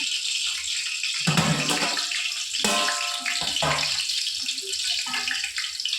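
Tomatoes washed under running water, a close splashing gush from a tap with rinsing and sloshing that swells and drops in bursts.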